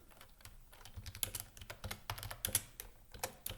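Computer keyboard keys pressed in quick irregular bursts during an Excel spreadsheet lesson, with clustered taps and brief pauses, moderately close and quiet with no talking.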